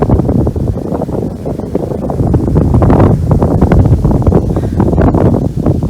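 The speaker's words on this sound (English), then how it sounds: "there is wind as the grass is blowing" Strong wind on a fixed-gear bike ride blows across the grass and batters the microphone in a steady, loud roar that never lets up, with no voices.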